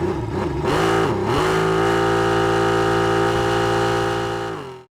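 A simulated car engine, driven by a cursor rather than a pedal, revs up and down, then settles into a steady buzzing drone before cutting off abruptly.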